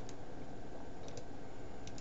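Keys clatter on a computer keyboard in a quick, steady stream of soft clicks over a constant low hum, with no voices.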